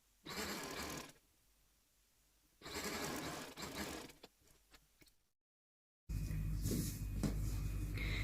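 A sewing machine stitches lace onto a long umbrella frock, running in steady whirring bursts separated by pauses and a brief silence, with a final longer run that sounds louder and closer.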